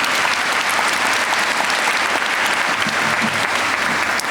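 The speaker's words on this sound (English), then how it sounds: "please give your faculty a round of applause." Audience applause fills a commencement and hooding ceremony hall at Wayne State University School of Medicine, a dense, steady wash of many hands clapping, loud and sustained throughout without a break.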